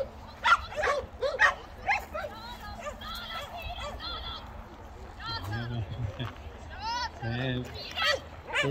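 A dog at a Swedish training session gives several sharp yips and barks mixed with whimpering, fairly close and loud, while a person talks between the sounds.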